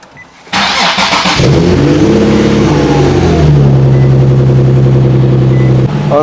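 Nissan 370Z engine after a front lowering job and MAF sensor refit: a loud, close starter crank, then the engine catches, revs and settles into a steady rumbling idle.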